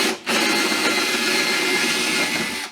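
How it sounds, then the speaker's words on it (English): A jigsaw cuts out a model railway baseboard with a steady, loud, close buzzing whine that starts abruptly after a brief pause and runs continuously, with no voices. "use that jigsaw to start the cutting out"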